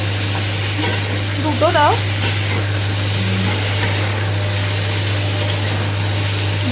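Potatoes being stirred and fried in a pan give off a loud, continuous sizzle over a low steady hum, with a brief spoken voice partway through.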